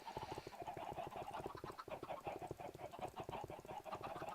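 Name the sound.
chickens clucking in the video game Minecraft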